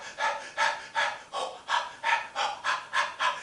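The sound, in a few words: puppeteer imitating a puppet's quick stressed breathing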